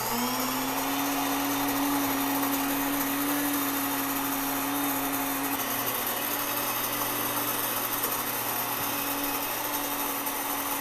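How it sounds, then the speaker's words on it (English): An electric grain mill grinding whole wheat kernels into flour, a loud, steady high-pitched whine and rushing motor roar running continuously without change. "So I grind the kernel whole, and here we go."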